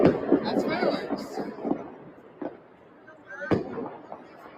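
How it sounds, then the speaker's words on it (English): Fireworks crack and pop outside on New Year's in Memphis, several irregular bursts near and far, some sharp and loud, mixed with chatter and talking voices. "That's fireworks."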